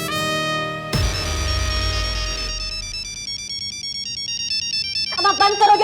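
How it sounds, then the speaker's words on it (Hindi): A mobile phone ringtone plays loud and close as a bright, repeating electronic melody of stepped tones, cutting off briefly and then starting another phrase near the end, with no one talking over it. "ये चेंज करो अपना रिंगटोन, हमारा खोपड़ी घूम रहा है इससे"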